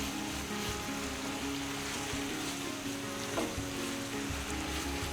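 Kalakand mixture of milk and sugar with cardamom powder is stirred in a pan, sizzling and bubbling steadily throughout with a soft, continuous close-up hiss and no talking.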